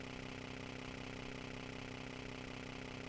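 Quad bike engine in the Tomb Raider game, a steady idling drone that holds evenly throughout at low volume with no speech.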